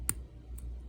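A single sharp click from a pin setting while a Brinks 161 padlock with five pins is picked under heavy tension, close and crisp, followed by a fainter tick over a low hum.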